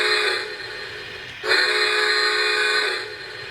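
A Lionel Polar Express 15th Anniversary Edition toy train whistle sounds twice, a brief harmonic toot followed by a longer sustained one, loud and close with no talking.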